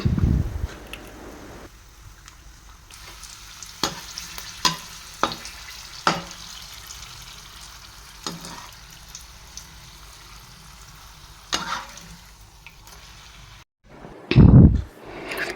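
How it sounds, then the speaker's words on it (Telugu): Chillies and papads fry in hot oil with a low continuous sizzle, punctuated by sharp taps and clinks of a utensil against the pan, heard close and with no talking. "చల్లమిరపకాయలు అప్పడాలు వేయించుకుందాము"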